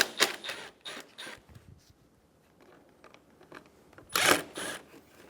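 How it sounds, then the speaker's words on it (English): A Phillips head screwdriver backs out two headlight bracket screws on a 2012-2020 Chevrolet Sonic, giving faint, close mechanical clicks and scrapes in short bursts with quiet gaps between them. "Using a Phillips head screwdriver, remove the 2 screws for the headlight bracket."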